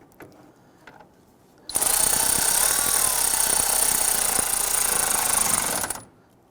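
A power driver whirs steadily for about four seconds, close and loud, as it runs a metal mounting screw into a plastic parking light housing on a 2008-2017 Buick Enclave, then stops abruptly.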